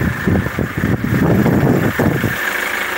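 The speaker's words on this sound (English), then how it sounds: "The engine is now running." A car engine idles steadily nearby, a continuous low rumble with a slight uneven pulse throughout, with a Pico 4425A diagnostic tool connected.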